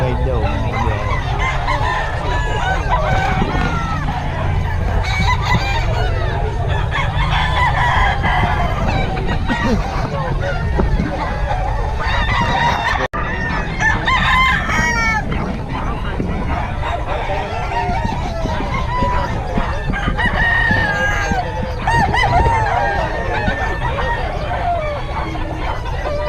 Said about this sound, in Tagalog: mga manok dito ngayon.